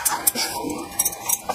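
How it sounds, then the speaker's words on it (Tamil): Rice flour moistened with water being stirred in a pan, with a few short metallic clinks and scrapes of a utensil against the pan, close and quiet, no talk. "இப்போ இதை நல்லா அந்த ஈரப்பதம் ஈவனாக ஆகிற அளவுக்கு நம்ம கிளறி கொடுத்துடலாம்"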